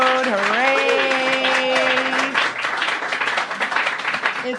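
A studio crowd applauds for Jared Padalecki. Steady, dense clapping runs throughout, with a sung-out voice cheering over the opening seconds.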